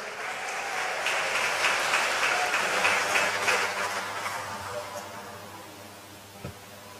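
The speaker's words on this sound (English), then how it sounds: "Give them another round of applause" A graduation audience at Sts. Peter & Paul Prep breaks into applause, a dense wash of clapping that swells early and then tapers off toward the end.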